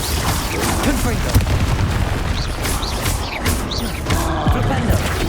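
Confringo blasting spell going off in the video game Hogwarts Legacy, a dense, booming burst of fiery impacts and rumbling debris under continuous battle noise, with no pause in the clatter.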